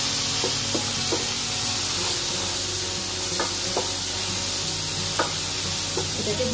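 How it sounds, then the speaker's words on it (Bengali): Onion frying in mustard oil in a pan, with a steady hiss of sizzling and occasional stirring scrapes, close and continuous without speech. "এবার আমি এর ভেতর দিয়ে দেবো পেঁয়াজটা। পেঁয়াজটা হালকা ফ্রাই হয়ে গেলেই দিয়ে দিতে হবে টমেটোটা।"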